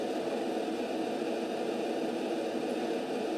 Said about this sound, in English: which is not characteristic of a white noise massive crowd of people